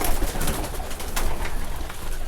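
Silver Bajrai pigeon cooing steadily at close range over a busy, noisy background, with soft repeated coos running through the whole stretch.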